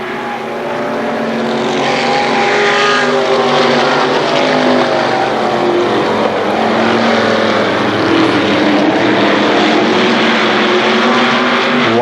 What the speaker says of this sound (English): they pick up the throttle out of turn 4